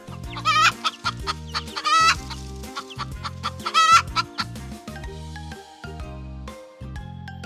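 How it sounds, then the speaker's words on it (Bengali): Farm chickens clucking and a rooster calling, repeated bright cackles over a bouncy musical backing, moderately loud and close with short gaps between phrases. "মুরগি ক্লাক ক্লাক শব্দ করে।"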